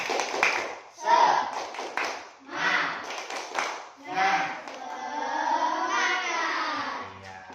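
Schoolchildren in an Indonesian classroom perform a patterned spirit clap, bursts of hand claps mixed with their chanted voices, then continuous group chanting toward the end.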